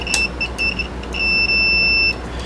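A continuity tester on a wire connection gives several short, high-pitched electronic beeps, the last one held longer, over faint background hiss.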